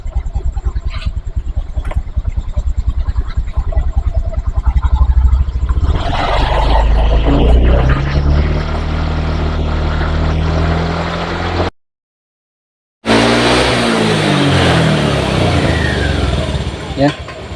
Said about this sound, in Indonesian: Oke, sekarang saya gas.